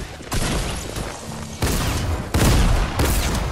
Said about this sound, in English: The grenades are bullshit.